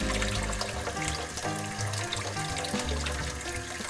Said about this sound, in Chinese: 很重要的是要充分的冲水，将它彻底洗干净。